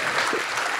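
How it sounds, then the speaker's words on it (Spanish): An audience applauds a guest on a Spanish-language comedy talk show, a brief dense wash of clapping hands that is loud and continuous, with no speech over it. "Aplauso para Fede, muchachos"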